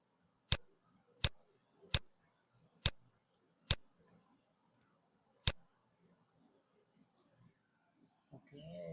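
Six sharp, separate mouse clicks come at uneven intervals, quiet and close against a faint room hush while buttons are pressed in Power BI, and a voice begins at the very end.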